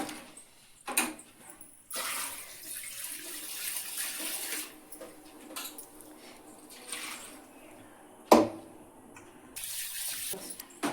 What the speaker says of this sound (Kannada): ಹಾಕ್ಕೊಂಡು ನಮಗೆ ಎಷ್ಟು ನೀರು ಬೇಕು ಅಷ್ಟು ಇದು ಹಾಕ್ಕೊಳ್ಳೋದು